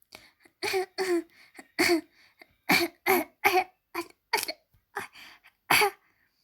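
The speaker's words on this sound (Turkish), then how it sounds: "Bir öksürük sesi duyuyorum." Coughing heard somewhere in a house, a run of about a dozen loud, separate coughs in an uneven rhythm over six seconds, with no talking.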